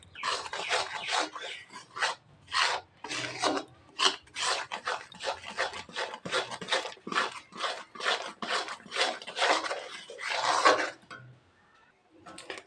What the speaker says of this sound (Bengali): গুঁড়ো দুধটা ভালো করে মিশিয়ে নিব শিরার সাথে